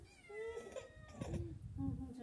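A cat meows several times in short, rising cries outdoors on a frosty day, fairly faint and close, with a quiet voice murmuring in the background.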